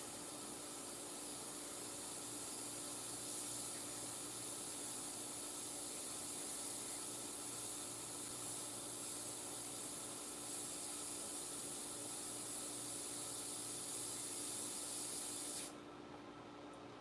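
An airbrush spraying paint with its compressor runs as a steady, even hiss close by, unbroken for about fifteen seconds before it cuts off, leaving a quieter background hum.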